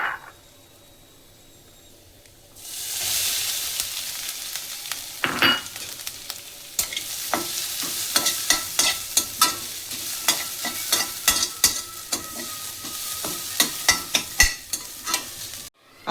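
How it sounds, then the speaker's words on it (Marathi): Grated coconut frying and being stirred in a pan for traditional Maharashtrian narali bhat: a quiet start, then a steady close sizzle broken by repeated scraping stirs, with no voices. "आता आपल्याला काय करायचं आहे, हे खोबरं टाकायचं आहे।"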